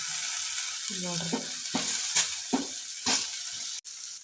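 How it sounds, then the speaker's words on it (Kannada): Potato slices sizzle and fry on a hot tava, with a steady hiss and several sharp scraping turns of a spatula, alone and close with no talk. "ಈಗ ಈ ಥರ ಫ್ರೈ ಮಾಡ್ಬೇಕು ನೋಡಿರಿ, ಬ್ರೌನ್ ಕಲರ್ ಬರೋ ತನಕ"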